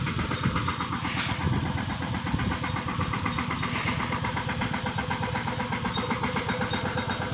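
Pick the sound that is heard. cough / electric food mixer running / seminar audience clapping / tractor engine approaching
tractor engine approaching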